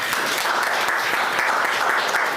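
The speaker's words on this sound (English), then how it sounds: "another round of applause" A steady round of audience applause at a university pre-conference workshop, an even wash of clapping from a seated crowd with no speech on top.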